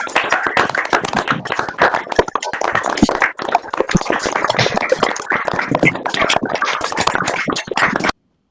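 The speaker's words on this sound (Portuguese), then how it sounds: "pedindo que todos possam ligar momentaneamente os seus microfones para mais um aplauso em conjunto" Participants at a solemn session honouring FACED's 50th anniversary applaud through their microphones, loud, close and crackly clapping from several people at once, continuous for about eight seconds and then cutting off abruptly.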